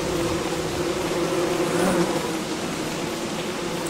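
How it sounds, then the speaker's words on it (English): Killer bees in the game Don't Starve buzz steadily and loudly throughout, a dense droning swarm hum that holds without a break. "Stupid killer bees"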